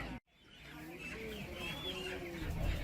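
Live chickens cluck and squawk at a poultry market, with several birds calling in uneven bursts over steady background bustle; a faint voice can be heard.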